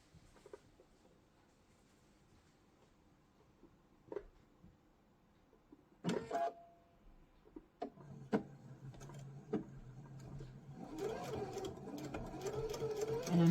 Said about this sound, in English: We're going to be sewing just below that fold.